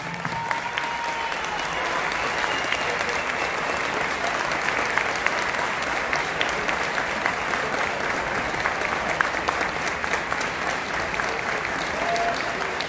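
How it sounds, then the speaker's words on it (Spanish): A wrestling crowd holds long, sustained applause as a tribute before a match, a thick, even roar of clapping hands that never lets up. "Vamos a aplaudirle a Super Porky"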